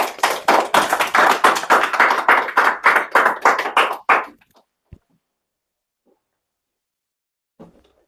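A small audience claps in a brisk, even rhythm for about four seconds before the applause stops abruptly, leaving near silence broken by a couple of faint knocks.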